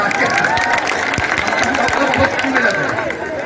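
Audience clapping and crowd noise at a Bhojpuri stage program in Lakhimpur, a dense, steady wash of applause with scattered cheers, loud and continuous throughout.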